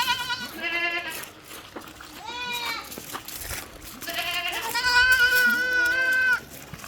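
A dairy goat, recently kidded and kept with her young kid, bleats loudly and close by in several long, wavering calls, with some faint background noise between them.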